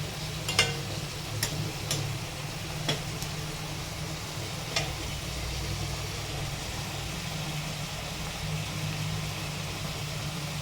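Potatoes stirred in a cooking pan over a steady low sizzle and hum, with a few faint scraping clicks early on, then a continuous even background of frying.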